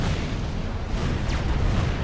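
Dense, continuous rumbling bursts of gunfire and artillery-like booms from the Forged Alliance strategy game fill the mix, loud and steady throughout with no pauses.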